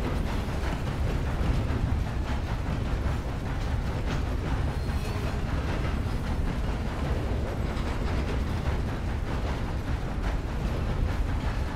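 Steady low rumble of a moving train during a ride in the Red Dead Redemption 2 video game, continuous and fairly even throughout, with no talk.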